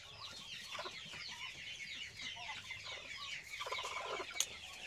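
Black guinea fowl hens cluck and chatter in a dense, continuous flock, with many overlapping faint calls at a moderate distance and no talking.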